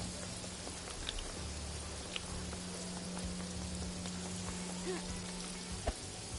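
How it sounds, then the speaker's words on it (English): Heavy tropical rain pours in the video game Paradise Killer, a steady, dense hiss of big drops that continues unbroken with a few sharper splats, and no one talks. "Man, that rain is no joke."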